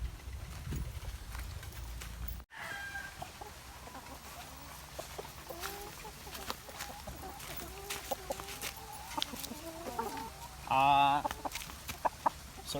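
Farmyard gamecocks and hens clucking and calling in short bursts during breeding, with a louder squawking flurry near the end and scattered knocks and rustling throughout.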